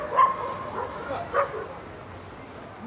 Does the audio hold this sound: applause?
no